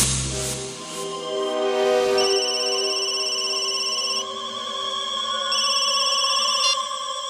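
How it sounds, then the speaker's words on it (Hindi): A mobile phone rings with a loud, melodic electronic ringtone for an incoming call, its tones repeating steadily and continuously for several seconds. "उसके मोबाइल पर एक कॉल आया था"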